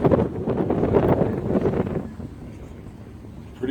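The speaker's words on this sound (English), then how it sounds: "I can hear the winds blowing. I can hear 10 on the barn flapping." Wind gusting across an open farm with a barn, a loud rough microphone-buffeting roar that eases off after a couple of seconds, followed by quieter air and a faint knock at the end.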